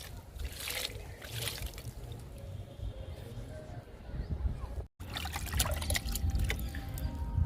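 Liquid fertilizer poured onto potted garden plants such as chili and curry leaf, a soft steady trickle and splash in two stretches split by a short break, faint and close.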